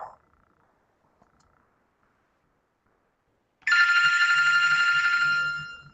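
A phone rings loudly and steadily for about two seconds, starting abruptly after a long near-silent stretch with faint background noise.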